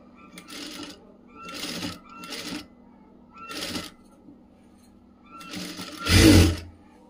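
A sewing machine stitches fabric in several short bursts of rapid mechanical whirring separated by pauses, the last burst louder and closer, with soft handling sounds between.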